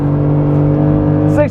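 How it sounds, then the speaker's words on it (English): A 2024 Ford F-150 STX launches from standstill in a 0-60 run, its engine roaring with a steady harmonic drone and climbing in pitch at the very end, loud and close. "Wheel spin, more wheel spin, Oh, too much. more wheel spin, more wheel spin."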